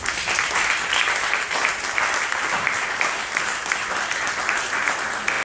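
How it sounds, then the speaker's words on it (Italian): An audience applauds pianist Gloria Campaner after her Schumann pieces, a full, even wash of clapping that carries on steadily from start to finish. "Un applauso."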